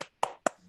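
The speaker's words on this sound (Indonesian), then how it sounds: "Tepuk semangat." Three sharp hand claps in a quick, even rhythm, with short ringing decays in a classroom, part of a clapping cheer done by schoolchildren.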